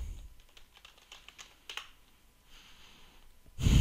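Quick bursts of keystrokes on a computer keyboard, tapping out a command in irregular clusters of soft clicks, close and quiet, ending with a louder thump or rustle.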